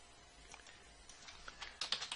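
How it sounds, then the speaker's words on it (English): Typing on a computer keyboard in a web browser at a desk, a run of quiet, irregular key clicks that grow denser and louder toward the end. "So this is me typing in a web browser in HTML5 canvas."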